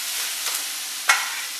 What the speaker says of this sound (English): Here I have a hot pan with some organic butter in it. Adding the ingredients to the butter.